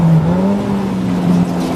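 Race car engine droning steadily in the pit lane at Snetterton during a 750MC ClubEnduro race, a sustained loud hum with slight pitch shifts and no talk.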